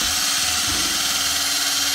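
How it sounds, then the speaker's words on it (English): A power drill with a mixing paddle churns material in a bucket on a home office build, a steady continuous motor drone with slight load changes, close and loud with no talk. "You don't need to drill on high if you want to mix this up."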